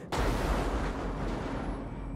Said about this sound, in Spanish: No te me asustes de un trueno.